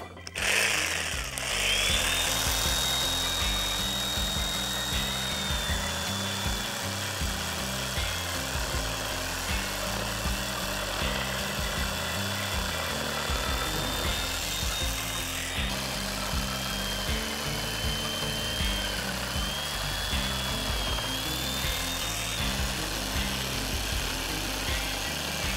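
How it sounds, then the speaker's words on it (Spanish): A jigsaw fitted with a wood-cutting blade saws through wood panels for an outdoor shower build, a loud, steady buzzing whine that runs continuously for the whole stretch with slight shifts in pitch. "Sierra de calar y hoja para cortar madera."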